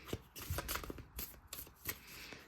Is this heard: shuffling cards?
yes